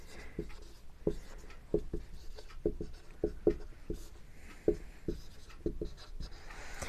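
Chalk or marker on a board during a physics lecture on refraction through a glass slab, with sharp taps and short scratchy strokes in an irregular rhythm, close and clear, no voice over it.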